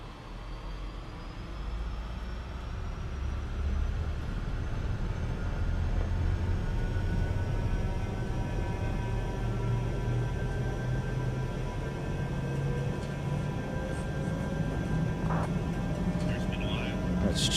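Jet engines of a Contrail Falcon 50 spooling up for takeoff in Microsoft Flight Simulator at White Plains, a steady loud roar with rising whine tones that builds and holds for the whole stretch, with voices over it.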